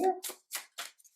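Oracle cards being shuffled and drawn by hand, three or four short crisp swishes in quick succession, close and fairly quiet, after a brief voice.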